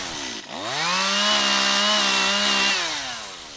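A chainsaw revs up and bites through a tree limb trimmed from a bucket lift while raising a tree canopy, its loud, steady whine holding under load before easing off as the limb tears free at the end.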